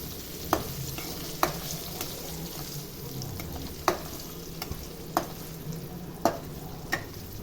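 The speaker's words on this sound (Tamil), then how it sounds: "அந்த எண்ணெய் மசாலாவில் காரத்தில் போட்டு பொரிச்சாச்சு" Paneer sizzles in spiced oil masala in a pan, a steady low frying hiss broken by sharp scrapes and clicks as it is stirred at irregular intervals.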